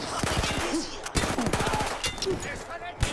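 Rapid machine-gun fire in the World War I shooter Battlefield 1, fast rattling bursts close by with a brief pause between them, a player's voice speaking over the shooting.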